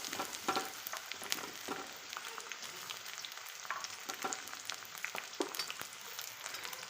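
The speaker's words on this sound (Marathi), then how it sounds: "आता यामध्ये आपण शिमला मिरची घालूया।" Onion and capsicum sautéing in a pan for homemade noodles, a steady low sizzle with scattered spatula scrapes and clinks throughout, moderately faint with no talking.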